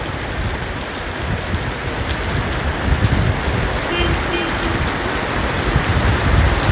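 Steady heavy rain pours during a loud thunderstorm, a dense, even hiss with low rumbling body throughout, close and constant without breaks.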